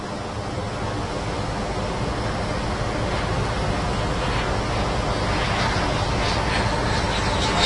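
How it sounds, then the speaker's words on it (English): Red Arrows jet touching down at Farnborough International Airshow, heard as a steady, loud broadband roar of engine and rushing air that swells slightly toward the end, with no clear voices. "Touching down now, red 7, Flight Lieutenant Mark Lawson."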